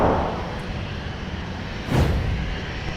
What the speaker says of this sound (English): here's Sun Country touching down with a 737 in the simplified titles livery